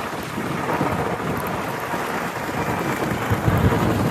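Rain begins with thunder during the monsoon on the Kas plateau near Satara: a steady wash of rainfall and wind with a low rolling rumble beneath, continuous and fairly loud throughout.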